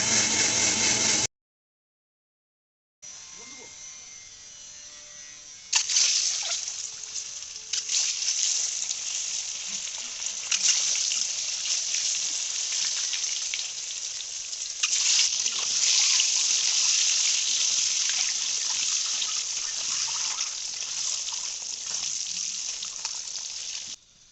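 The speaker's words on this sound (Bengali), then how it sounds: "আমার ডিমগুলো সেদ্ধ হচ্ছে" Eggs boiling in a pot of water, a steady bubbling rush after a brief silent gap near the start, growing somewhat louder partway through.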